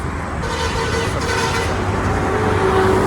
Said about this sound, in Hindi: बैकग्राउंड पे जब बस या फिर लॉरी जा रहा था तो वो हॉर्न देके जा रहा था